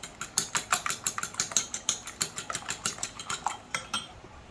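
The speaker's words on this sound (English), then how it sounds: "Grab you a bowl and 2 eggs and whisk them together" Two eggs whisked together in a bowl, a fast even rhythm of about five or six clinking utensil strokes per second, close and crisp, with no talking.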